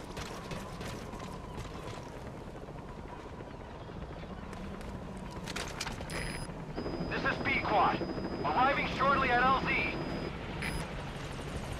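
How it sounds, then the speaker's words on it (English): A support helicopter arrives in Metal Gear Solid V: The Phantom Pain, with a steady rotor drone building up as the aircraft approaches, under game radio chatter and voices. "Let's call the chopper."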